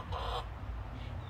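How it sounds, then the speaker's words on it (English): Chickens clucking in a Florida backyard with jungle-like trees, a short burst of fowl calls near the start followed by softer, scattered clucks over a low rumbling background. "Cool. Chickens."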